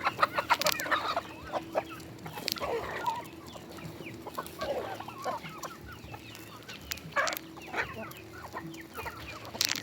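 Rhode Island Red chickens cluck repeatedly at close range in a native flock being fed corn at midday, with bursts of busy clucking over a steady farmyard background.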